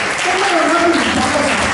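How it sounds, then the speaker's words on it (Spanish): An audience claps during an announcement for an upcoming bolero charity concert, a loud, even patter of applause with a voice talking over it the whole time. "gracias por el aplauso."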